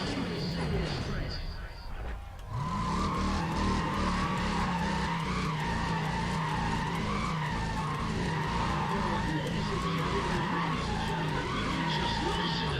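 A race car engine in the racing video game Need for Speed ProStreet roars steadily at high revs with a tire-skid hiss, loud and continuous, briefly dipping near the start while a commentator talks over it.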